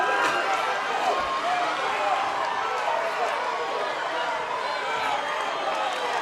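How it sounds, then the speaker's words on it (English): Arena crowd at a women's boxing bout between Meredith Connelly and Yulia Guseva, a steady dense roar of voices chanting for Guseva throughout, loud and continuous with no pause. "And the crowd is chanting for Yulia Guseva."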